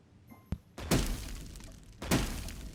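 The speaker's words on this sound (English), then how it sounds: "It really is a cannon." Valkyrie's cannon ability in SMITE fires in two heavy blasts about a second apart, each a loud booming crack that rings out into a noisy tail, with a sharp click just before the first.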